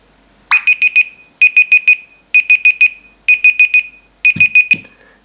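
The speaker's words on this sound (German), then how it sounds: "Ja, das ist ein Timer," The timer alarm on an Alcatel One Touch Scribe HD phone beeps loud and close in repeated bursts of four quick tones, five rounds with short gaps between them, and a couple of low thumps near the end.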